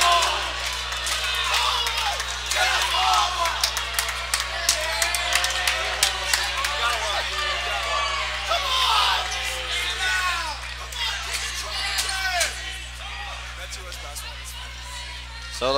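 At a boys' high school basketball game, a large indoor crowd cheers and yells with scattered whoops and claps, loud and sustained, while a commentator's voice speaks over the noise.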